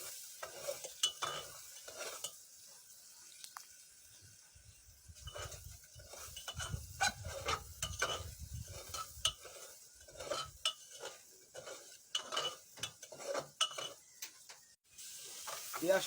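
Onions frying in a pan, stirred with a utensil that scrapes and clinks against the metal in steady strokes over a continuous close sizzle.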